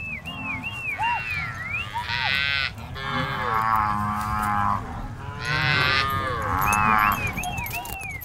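Cattle on the Amazon plains moo loudly in several long, drawn-out calls, some overlapping, with chirping birds or frogs and a low rumble in the background.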